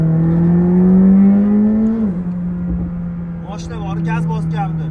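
A McLaren 765LT accelerates with a loud engine note that climbs steadily for about two seconds, drops at the gear change and holds on, while someone speaks over the last part.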